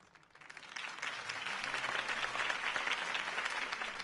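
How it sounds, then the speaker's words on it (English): Applause from the crowd after a campaign speech in Batman The Telltale Series swells from quiet into steady, dense clapping that keeps going at a moderate distance. "could have heard that applause"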